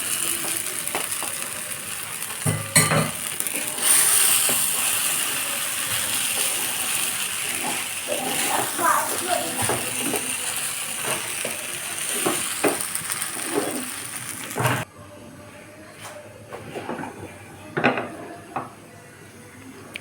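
Flattened rice (chira) stirred through in a pan while making chira polao, a steady soft sizzle with scraping and occasional clinks of a spoon against metal, continuous for most of the clip, then quieter with a few sharper knocks near the end.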